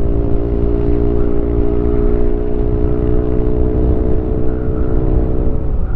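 Yamaha Aerox scooter cruising at about 100 km/h with an open helmet visor, a steady loud engine drone mixed with heavy wind rush, continuous and unbroken throughout, with no talk.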